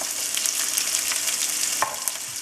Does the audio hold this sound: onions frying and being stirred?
yes